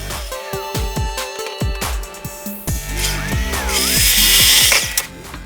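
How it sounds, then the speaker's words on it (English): A miter saw cutting wood boards for a wine storage build, the motor spinning up and whining loud and close, then a rising, rougher buzz as the blade bites through the board. "I used the miter saw to cut them a little longer than their final length"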